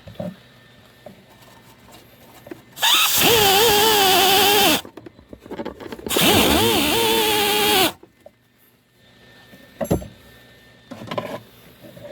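A power tool grinds on a metal part from a Husqvarna LC 221A lawn mower, with two loud, sustained passes of a few seconds each and a wavering pitch, separated by quiet pauses and followed by a few brief knocks.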